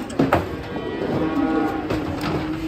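A large cow moos in a deep, drawn-out call near a livestock truck, loud and close, with faint clatter around it and no talking.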